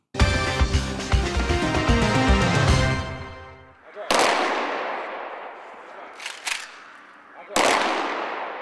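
Tonal music fades out, then three sharp ceremonial gun volleys crack out one after another at a memorial salute, each ringing off with a long echoing tail.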